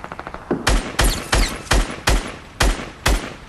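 Evenly spaced single gunshots in a video game, sharp and loud at close range, about seven booming shots after a patter of lighter clicks.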